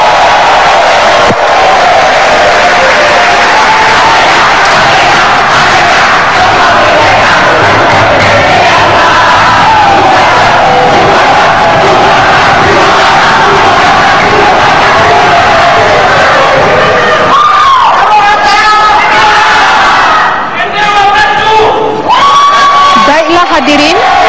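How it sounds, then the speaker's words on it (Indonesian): Audience at an Indonesian 2014 vice-presidential candidates' debate cheers, whoops and shouts loudly and continuously for about twenty seconds, the dense crowd noise thinning briefly near the end before swelling again. "terima kasih atas tepuk tangannya"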